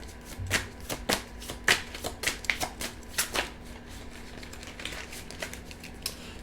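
Tarot cards being shuffled, a quick run of crisp riffling flicks and slaps close by, then slower, quieter card handling as they are drawn.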